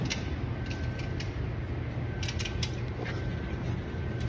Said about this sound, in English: I'm running my Inox, my DeWalt Inox